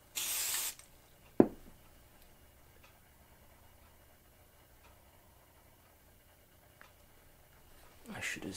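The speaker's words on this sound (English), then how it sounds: "I should have zoomed out so you could saw the spraying." Fluid Film rust protectant sprayed onto bare metal, heard as a short loud hiss at the start, then a few faint clicks and a thump, with another spray burst rising at the end.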